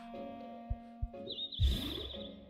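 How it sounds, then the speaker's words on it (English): A loud bird call in the video game Potionomics, a bright warbling chirp that rises over steady game music after a couple of soft thumps, ringing out clearly for about a second. "That bird is loud."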